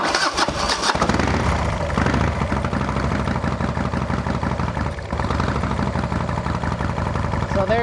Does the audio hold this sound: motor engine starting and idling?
yes